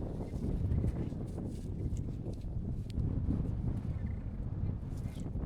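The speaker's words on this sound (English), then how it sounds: "It's incredibly windy." Strong wind blows across the high-altitude salt flats of Uyuni at about 4,600 meters, a constant low rushing roar battering the microphone for several seconds with no clear speech.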